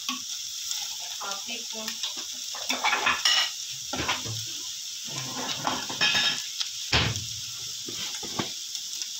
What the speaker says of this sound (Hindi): इसके साथ ही ज़ीरा डालेंगे